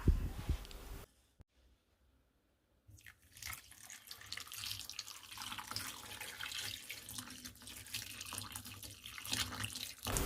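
Tap water runs steadily into a rhubarb mixture being prepared for a sweet-sour rhubarb drink, starting after a brief quiet gap and continuing with a bright, rushing splash near the microphone.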